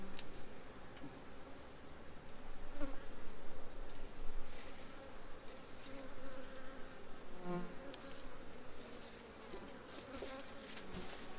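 A dense, steady hum of many honeybees buzzing close by at an open hive being inspected, with occasional individual bees zipping past.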